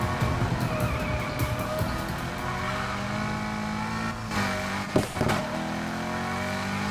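Cars in Need for Speed Heat roar through a street race, with engines revving and shifting in rising and falling tones, and a sharp burst near the end, loud and continuous without talk.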